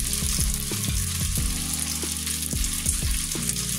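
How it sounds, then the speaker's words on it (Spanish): Food sizzling in hot olive oil with pepper in a pan for spaghetti with clams and prawns, a loud, steady close fry broken by regular scraping knocks as it is stirred. "Lo saltearemos un poquito."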